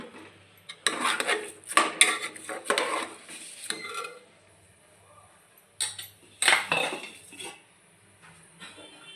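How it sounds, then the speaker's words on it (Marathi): Soaked rice is stirred in a metal pot, making bursts of scraping and clinking in two main clusters with quiet gaps between, close by and without speech. "आता आपण तांदूळ टाकून घेतलेले आहे थोडंसं हलवून घेते मी"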